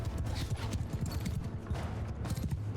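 Horses galloping in a battle in the video game Mount & Blade II: Bannerlord, a dense, continuous clatter of hooves with steady drumming rhythm over a busy background.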